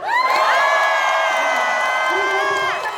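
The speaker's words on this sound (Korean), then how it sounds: "오늘 세미나가 얼만큼 좋았는지 한번 함성 한번 질러볼까요?" Seminar audience cheering and shouting together in one loud, sustained burst of massed voices, with high whoops held steady across the whole stretch before it fades at the end.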